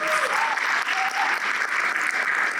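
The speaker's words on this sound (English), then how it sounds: "Can we please give Ms. Stokley one more round of applause?" Banquet audience at a student recognition and award banquet applauding the keynote speaker, a dense, sustained burst of clapping filling the room, loud and continuous with no voices on top.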